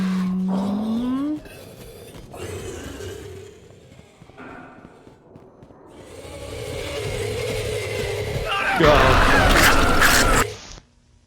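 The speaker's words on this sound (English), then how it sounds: "these noises are not scary at all. Sounds like an HVAC guy doing his job" Mechanical clanks, scrapes and ratcheting machinery sounds in the horror video game Escape the Backroom, resembling HVAC work, shifting irregularly and swelling to a loud burst near the end, with talk among them.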